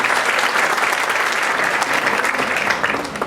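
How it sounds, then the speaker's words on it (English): An audience at a conference gives a round of applause, a loud, dense roar of many hands clapping at once that holds steady before starting to fade. "Could we give Umberto a round of applause?"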